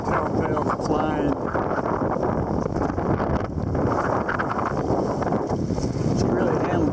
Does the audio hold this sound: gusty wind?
yes